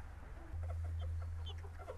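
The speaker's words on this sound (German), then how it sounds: "Dieses hier ist ein männliches Eintagsküken" A male day-old chick gives soft, scattered high peeps, faint and close, over a steady low background hum; no one speaks.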